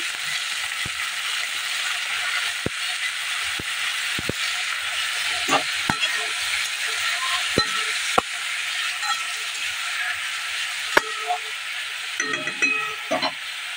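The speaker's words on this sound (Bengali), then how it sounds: "এবার এর মধ্যে দিয়ে দেবো কেটে রাখা বেগুন আর টমেটো কেটে রেখেছি, ওটাও দিয়ে দেবো। দিয়ে একদম লাল লাল করে ভেজে নেব।" Cut eggplant and tomato frying in a pan, a broad steady hiss and sizzle throughout, punctuated by sharp clicks and soft stirring knocks, busier near the end.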